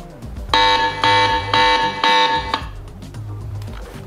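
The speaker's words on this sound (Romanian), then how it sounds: "Aveți alarmă." A loud alarm siren sounds from a Ulefone Armor 9 rugged phone, sounding in four evenly spaced harsh buzzing pulses about half a second apart, then cutting off and leaving quieter background noise.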